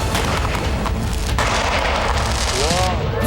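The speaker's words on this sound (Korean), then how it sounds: "일제히 터지는 폭죽." Thirty-five store-bought firecrackers of the same type, set at even spacing and lit together by remote ignition outdoors, go off in a dense, loud, continuous burst of booming cracks.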